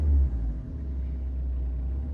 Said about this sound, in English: I've just given it a blip of throttle there